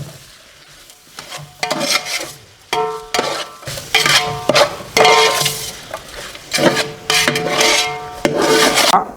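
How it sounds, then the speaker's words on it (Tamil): Onion tomato masala for a chicken dish is stirred in a pot, scraping and rasping in bursts of several strokes with short pauses between them, close and fairly loud. "அதுக்கு முன்னாடி இதை நம்ம கிளறி விட்டுருவோம்."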